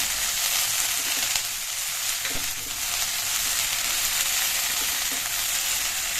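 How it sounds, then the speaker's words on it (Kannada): Cauliflower frying with chili powder in oil, a dense, continuous hiss of sizzling close by with faint stirring scrapes underneath, steady throughout and free of speech. "ಸ್ವಲ್ಪ ಆಯಿಲಲ್ಲಿ ಖಾರ ಪುಡಿ ಜೊತೆ ಸ್ವಲ್ಪ ಫ್ರೈ ಮಾಡ್ತಾಯಿದ್ದೀವಿ"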